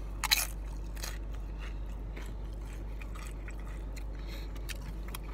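Crisp bites and crunches into loaded nachos topped with carne asada and jalapeño, one sharp loud crunch at the start followed by quieter scattered chewing crackles, close up with no talking.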